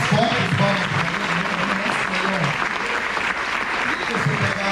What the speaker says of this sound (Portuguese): Vamos aplaudir o Senhor Jesus, vamos